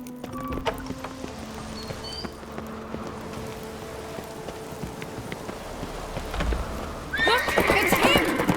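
A horse whinnies loudly near the end after hooves clip-clop over a quiet, low background, the neigh rising sharply and close in a fantasy game set around a castle hall.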